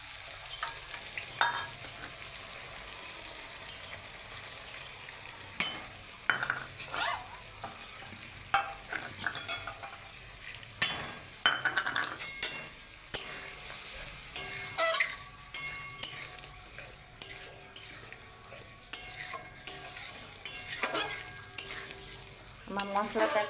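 Vegetarian jackfruit curry with 150 grams of sour yogurt being stirred and fried in a pan: steady sizzling runs throughout, with repeated scraping and clinking stirs at irregular intervals, close and alone.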